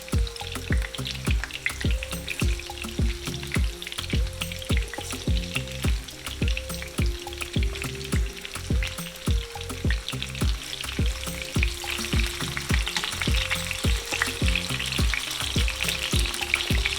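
Plantain slices fry in hot oil with a steady, close sizzle, broken by regular low thumps and scrapes as pieces are handled in the pan, with no voices.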